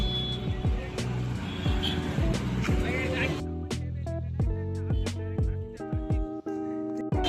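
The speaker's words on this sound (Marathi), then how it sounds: "आता इथं कुठेतरी पार्किंगला गाडी लावतोय" A car is maneuvered into a parking spot, its engine humming close by with steady electronic beeps repeating through the second half and some talk in the background.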